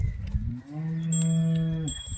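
A single deep, drawn-out moo from a cow, close and clear, lasting over a second before trailing off.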